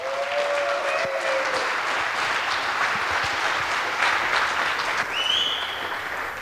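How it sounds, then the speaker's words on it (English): An audience at a hacker conference applauds its speakers, dense continuous clapping filling the room at fairly close range, with a brief whistle-like tone cutting through near the end. "Please give them a round of applause."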